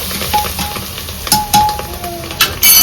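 Spiced dal filling with sambar masala and coriander being stirred and sautéed in a pan, loud scraping and clinking of a metal spoon against the pan over a light sizzle.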